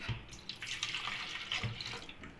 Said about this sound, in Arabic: هننزل بكوبايه من الحليب